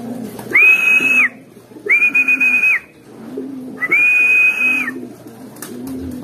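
Racing pigeons settling at the loft after a 117 km training toss, with soft cooing under three bright, sustained whistle-like tones that rise and hold for about a second each, fairly close and loud.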